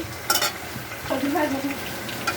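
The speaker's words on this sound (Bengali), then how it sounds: "আমি পেঁয়াজগুলোকে লাল লাল করবো না, জাস্ট একটু নরম করে ভেজে নেব।" Onions fry in hot oil in a wok with a close, continuous sizzle, joined by a couple of bright metallic scrapes and clinks from stirring.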